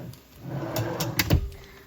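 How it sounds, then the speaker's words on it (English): A small drawer in the entertainment center of a custom sheep camp slides open or shut, giving a few close, light wooden knocks and clicks over about two seconds with no talking. "Little drawer."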